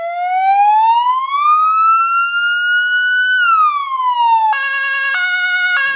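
Siren of a new fire engine handed over to a volunteer fire brigade in Poland, loud and close, a rising then falling wail that switches to a rapid two-tone alternating pattern near the end, sounding alone without talk.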